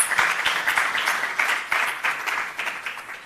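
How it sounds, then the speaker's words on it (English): Applause for a speaker at a university innovation event, moderately loud clapping from a modest audience with distinct individual claps standing out in an uneven, pulsing rhythm that slowly fades. "Could we please give her another wonderful round of applause?"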